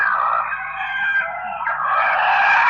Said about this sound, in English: The cooperative of the chickens are having a little meeting right now.